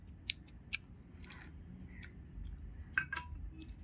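Several sharp, close crunches come from biting into a Priyagold biscuit, spaced irregularly with softer chewing crackles between them in a quiet room with no talking.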